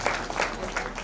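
Steady crowd applause for the performers at a Hindu New Year staging of the play Vikramaditya, dense clapping filling the whole short stretch at even loudness.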